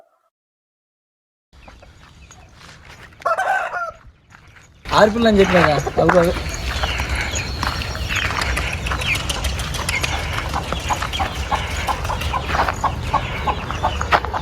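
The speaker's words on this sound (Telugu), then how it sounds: "పెట్టలని పిల్లలని బయట తిరుగుతున్నాయి." Hens and their chicks cluck and peep outdoors around a rooster farm yard, a steady busy chorus with some wing flapping, while someone talks over it.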